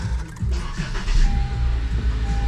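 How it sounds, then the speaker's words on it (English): A 2015 Honda Civic Si engine cranks briefly and catches, settling into a running hum; short and close, no talking. "Let's see if this car starts."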